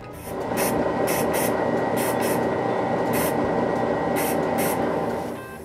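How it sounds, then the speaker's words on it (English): A steady, continuous aerosol hiss from a lacquer spray can coating a wooden Christmas tree, held for several seconds without a break, with faint clicks and rattles under it. "Now I can spray lacquer on the tree."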